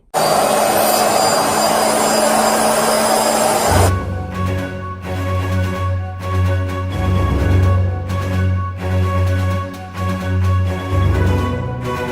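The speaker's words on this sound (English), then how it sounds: "This is supposed to be the Bissell ProHeat 2 Revolution. Let's see if we can get this stain up." A Bissell ProHeat 2X Revolution carpet cleaner runs on a stained fabric pillow, with a loud, steady motor whine that shifts to a deeper droning hum partway through, close up.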